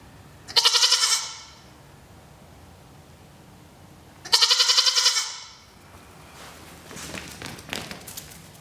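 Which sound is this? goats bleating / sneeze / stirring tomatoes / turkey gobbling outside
goats bleating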